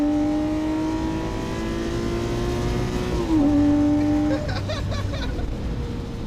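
A Lamborghini Murcielago Roadster V12 holds a steady engine drone, then its pitch shifts sharply and it revs into a loud, rising roar before settling.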